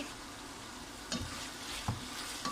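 Vegetables with tomato fry in a pan, a soft steady sizzle heard up close with a couple of light stirring knocks, quiet and without voices.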